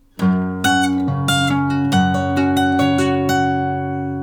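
A short fingerpicked guitar phrase, single notes plucked one after another in an even rhythm over ringing strings, close and clear.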